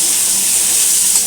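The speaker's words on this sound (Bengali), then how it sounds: "এই আলুটাও লাল লাল করে ভেজে তুলে রাখো" Potatoes fry in hot oil in a pan, producing a loud, continuous close-up hiss and sizzle throughout the brief moment.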